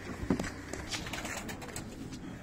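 Pigeon cooing, a soft low call heard near the start over a busy background, fairly faint and short.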